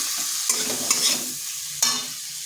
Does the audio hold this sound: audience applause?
no